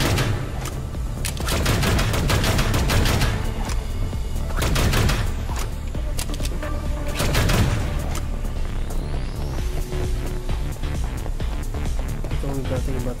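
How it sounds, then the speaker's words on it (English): Automatic gunfire in the game Anno Mutationem, loud rapid bursts of shots in repeated volleys with booming impacts, a voice talking over the firing. "The only bad thing about this gun is that it'll automatically shoot a bit more than just one"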